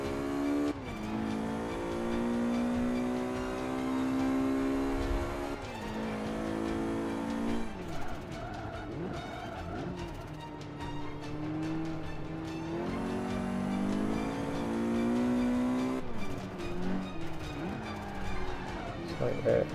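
Race cars battling for position in Forza 5, engines revving up and down through gear changes with rising pitch sweeps and occasional tire squeal, loud and continuous while someone talks over the action.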